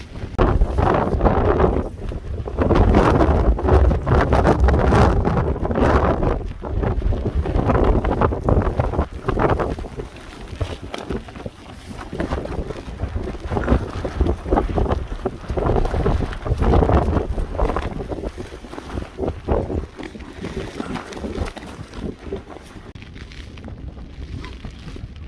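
Gusts of 40 mph plus wind batter a Lanshan trekking-pole tent, with loud buffeting roars and fabric flapping in uneven surges that ease and return over about 25 seconds.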